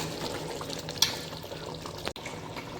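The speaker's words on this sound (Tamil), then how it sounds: "இப்போ வந்து கொதிக்கிற தண்ணியே ஒரு 6 டம்ளர் ஊற்றுறேன்" Boiling water is poured into a pot of partly cooked chicken biryani with rice just added, about six tumblers' worth, giving a quiet, steady liquid rush with a light splash partway through.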